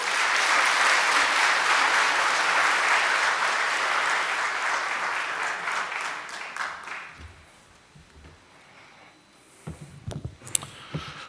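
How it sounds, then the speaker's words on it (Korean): Congregation applause at a New Year's Eve church service welcoming the pastor, dense and steady for about seven seconds before thinning out into a few scattered claps and rustles. "목사님 나오실 때 박수로 모시겠습니다"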